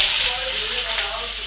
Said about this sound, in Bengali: সয়াবিনটা ভাজবো